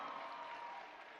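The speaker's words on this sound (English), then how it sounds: "Clap for him." Brief, fairly faint crowd applause at an outdoor political public-participation gathering, a continuous smear of clapping with no distinct individual claps.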